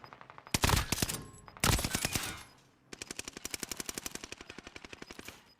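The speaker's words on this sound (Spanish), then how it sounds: "¡Me están disparando!" Enemy automatic gunfire in a video game rattles out in two sharp, loud bursts, then returns as a longer, slightly quieter run of rapid, evenly spaced shots.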